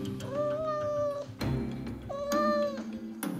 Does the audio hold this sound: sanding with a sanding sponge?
no